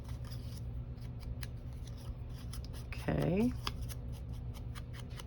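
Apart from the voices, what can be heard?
scissors cutting paper for a craft tag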